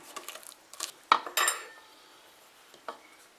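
Sticky muffin batter stirred with a spoon in a bowl, heard as a few soft scrapes and knocks, with two louder clatters of spoon against bowl midway, then quiet with a faint tap near the end.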